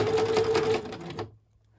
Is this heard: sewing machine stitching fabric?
yes